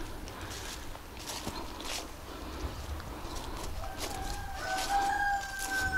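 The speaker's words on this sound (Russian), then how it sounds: "Петушки поют, поют и мои, и соседские." Roosters crow in the distance, several calls overlapping against faint outdoor background noise, with one crow rising toward the end.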